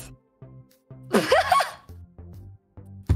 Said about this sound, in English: Just sneezes over all over me instead.